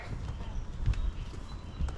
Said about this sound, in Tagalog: Laki ng kabayo.